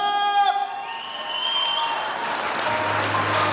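An audience at a jubilee celebration breaks into applause and cheers, rising to a dense clapping wash, after a brief sung or shouted note at the start.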